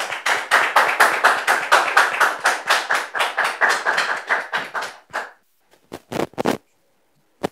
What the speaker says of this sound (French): recevons maintenant monsieur et madame Seri, sous vos applaudissements, s'il vous plaît.